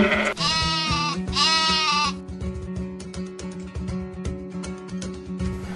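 Several sheep bleating loudly in quick succession, close by, over a busy rhythmic backing of music.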